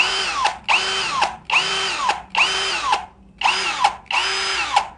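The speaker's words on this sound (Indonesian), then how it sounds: "Ini wajar bunyi seperti ini, semua bor kayak gitu guys, untuk yang cordless" A Ronix 20-volt cordless hammer drill whirs at speed 2 in short, repeated bursts, each spinning up and cutting off with a slight rattling pulse, close and loud.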